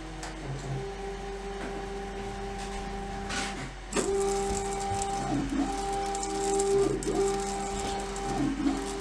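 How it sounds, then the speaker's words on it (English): A UV printer (LogoJET UVx60XL) hums steadily with repeated mechanical whirring passes and a sharp clunk partway through, its carriage moving back and forth while printing onto a table. "As you can see here, we're printing the template onto the table."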